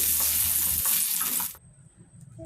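Pointed gourd (potol) frying in oil in a kadai makes a loud, close sizzle that cuts off abruptly after about a second and a half, leaving near quiet.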